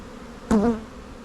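Honeybees around a hive give a short buzzing burst lasting under half a second, close and moderately loud, against a quiet hiss.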